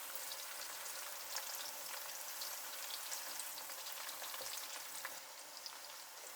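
Onions frying in a pan with white cumin, garlic and ginger, a dense continuous crackling sizzle that stays close and steady, with no talking.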